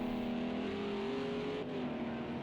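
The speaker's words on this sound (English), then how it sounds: "This is going to amplify the sound of these monstrous GT3 cars so much more." GT3 race cars lap the big oval bowl of Texas Motor Speedway in Project CARS 2, a continuous loud engine drone whose pitch rises and shifts as the cars run, with no talking.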